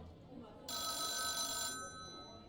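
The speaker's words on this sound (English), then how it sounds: "A phone call from Coralie's mother interrupted." A telephone bell in a detective-style video game rings once for about a second, bright and clear against a quiet background.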